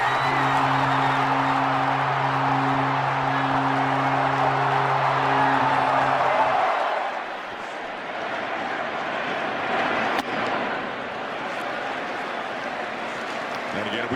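A baseball crowd at Rogers Centre roars and cheers during a Blue Jays World Series game, a dense sustained swell of noise that fades after several seconds, with a broadcaster talking over it.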